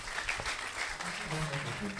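A church congregation claps together in a steady wash of applause, with a voice speaking over it for much of the moment.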